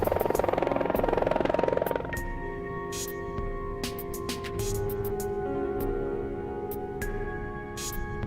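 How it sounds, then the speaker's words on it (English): A helicopter in a movie scene, a loud broadband rotor roar for the first two seconds, then giving way to a steady tonal hum with sharp bursts over it, with no talking. "So now the guy comes out of the helicopter."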